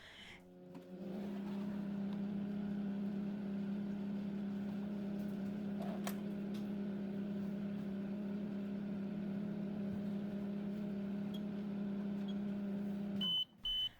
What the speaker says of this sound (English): all I'm going to do is microwave my evaporated milk for about a minute